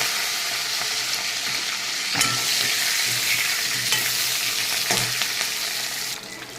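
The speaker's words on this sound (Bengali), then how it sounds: "কাঁচা লঙ্কার পরে মাছের মাথা কটা দিয়ে দেবো।" Fish heads frying in hot oil with green chilies, dried red chili and mustard seeds, giving a steady close sizzle with occasional stirring scrapes and bursts of louder spitting throughout.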